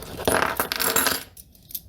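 Metal seat belt hardware from a Schroth Profi 2x2 harness clinks and jingles as it is pulled out, a close cluster of bright rattling clatters that trail off after about a second.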